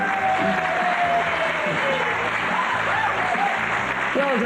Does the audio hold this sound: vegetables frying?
no